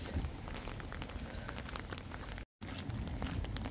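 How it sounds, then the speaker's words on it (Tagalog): Heavy rain falls steadily while someone walks outside in it, a dense, even patter hissing across the whole stretch apart from one brief dropout. "Malakas talagang ulan dito ano."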